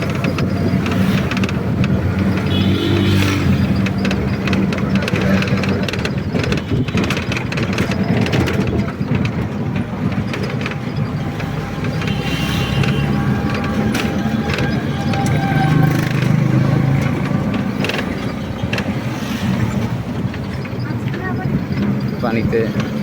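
Inside a car driving along Marine Drive in Cox's Bazar, a constant low road and wind rumble holds steady throughout, loud and close, with occasional faint knocks.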